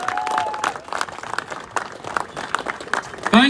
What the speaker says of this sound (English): Let's give Paul a large round of applause for Paul.